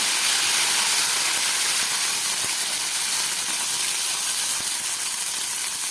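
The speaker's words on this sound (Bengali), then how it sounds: "এই তেলের মধ্যে দিয়ে দিচ্ছি আমি 1 চামচ ছোট আদা বাটা।" Ginger paste spooned into hot oil with a little garam masala, giving a steady, loud, broadband sizzle that hisses evenly throughout with faint clicks and no voices.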